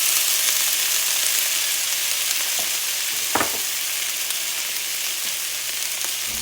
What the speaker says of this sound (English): we're going to go ahead now and add the little diced potatoes.